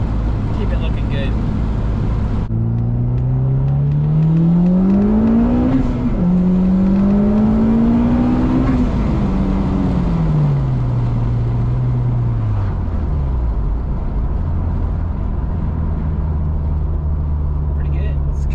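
A Honda S2000 fitted with a small turbo and running rich in the low gears accelerates hard, its close, loud engine note climbing in pitch, dropping at each gear change, then climbing again, before settling into a lower drone.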